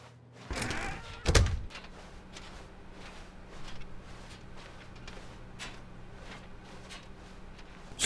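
An office door opening in The Stanley Parable Ultra Deluxe: a brief creak followed by a solid thunk near the start, then quiet room tone with faint soft steps.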